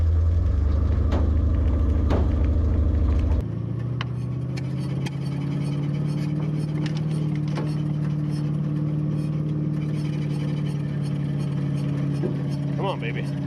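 A 1926 Ford Model T Touring car's engine, found abandoned, runs with a loud, steady low rumble and a rougher, heavier idle at the start, with a few faint clicks and knocks over it.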